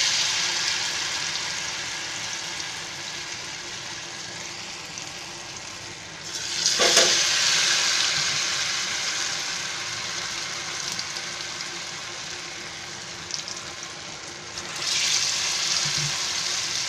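Potato vadas (batata vada) frying in hot oil give a constant close sizzle, swelling into a couple of louder, hissing bursts as pieces drop in, with no talking.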